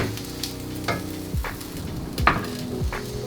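Tuna balls frying in a pan and being turned over, a steady close sizzle with a few soft scrapes and taps of a utensil against the pan.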